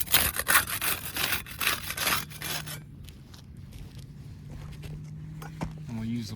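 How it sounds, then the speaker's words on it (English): A putty knife scrapes and pries at sealed roof shingles, a dense rasping and scraping up close for a couple of seconds, then quieter faint rubbing under a low hum. "We'll use the putty knife to unseal the top shingle."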